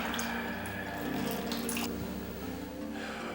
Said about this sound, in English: Hot water washes off the solution and stops the reaction.